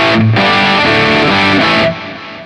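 A distorted electric guitar through a Line 6 Helix Floor amp preset with a boost pedal plays a loud, sustained chord passage with some melodic movement, ringing out briefly before fading at the end.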